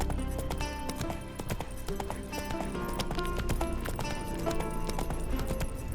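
Hooves of the horse Roach clip-clop steadily in The Witcher 3, close and continuous over a dense game soundscape with music-like tones, a possible whinny among them.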